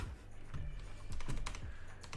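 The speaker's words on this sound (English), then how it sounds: "Maybe like ASMR keyboard stuff." Keys clatter steadily on a computer keyboard in a quiet room, a close, crisp run of taps with uneven rhythm and no talking.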